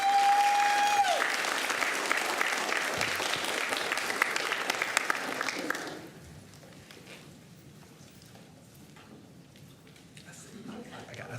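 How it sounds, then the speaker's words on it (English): An audience at a Duncanville ISD school board meeting applauds celebrated students, dense sustained clapping for about six seconds that stops abruptly, leaving a quiet room with faint murmuring. "Let's give them a round of applause."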